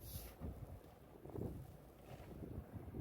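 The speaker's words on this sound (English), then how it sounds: "And it is windy." Wind gusts through a New York City snowstorm, a faint, steady low rumble buffeting the microphone with no voices.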